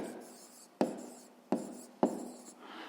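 Pen writing an answer on paper, scratchy strokes with three sharp tap-like onsets at regular intervals, close and quiet with no talk.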